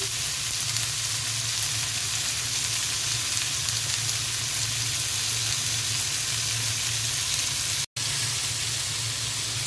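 Tomatoes, with chopped onion, garlic and dried chillies, sizzle loudly in oil in a frying pan, a dense continuous hiss and crackle up close, with no talking.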